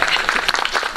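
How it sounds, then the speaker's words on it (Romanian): An audience at a Romanian school spring event breaks into a brief burst of dense, even clapping, close and fairly loud, lasting about a second. "Mulțumesc că mă și aplaudați."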